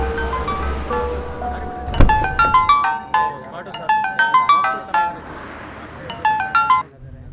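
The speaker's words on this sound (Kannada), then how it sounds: "ಸರ್ ಕಾರ್ ಒಳಗಡೆಯಿಂದ ರಿಂಗ್ ಆಗ್ತಿದೆ." A mobile phone rings from inside a parked car, a repeating bright electronic melody in bursts, heard from nearby after a sharp thud, with a few words spoken over it.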